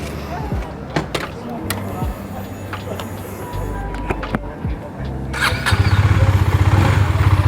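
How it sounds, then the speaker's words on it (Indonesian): A KTM Duke 250 motorcycle clicks and cranks, then its engine catches and settles into a fast, even, thumping idle close by, with voices faintly in the background. "Suara mesinnya juga sama, masih seperti yang sebelum-sebelumnya."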